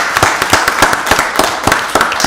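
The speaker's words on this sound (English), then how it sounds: "Let's give her a round of applause" Brief round of applause at a county board of commissioners meeting, a small crowd clapping in quick uneven bursts for a couple of seconds.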